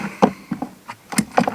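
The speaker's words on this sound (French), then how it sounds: "Donc là, je suis en train de démonter le moteur." Dismantling an electric motor taken from a welding machine: a handful of separate metallic clanks and knocks, fairly close, spaced irregularly across a short stretch with quiet gaps between them.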